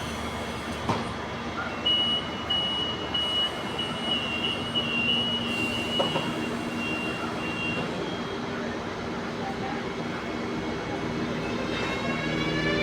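An EN57AKM electric multiple unit rolls into a platform at Wejherowo Śródmieście, a steady low rumble and hum with tonal whine and squeal, fairly quiet and continuous throughout.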